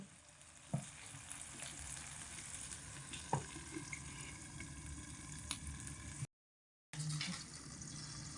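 Broad beans fry in a covered pan, giving a soft, steady sizzle with occasional small pops and clicks and a brief break in the sound near the end.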